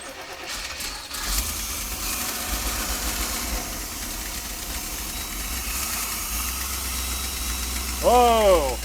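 A 1992 P30 RV with a 454 TBI engine, recently brought back from a no-spark, no-fuel-pressure fault, starts up and settles into a steady, fairly loud idle, with a brief whine near the end.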